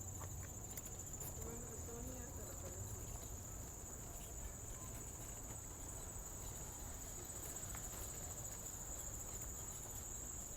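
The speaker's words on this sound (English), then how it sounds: "You hear the crickets?" Steady crickets chirping outdoors at night in the Ramble, Central Park, New York City, a continuous high trill that holds evenly throughout with faint low background rumble.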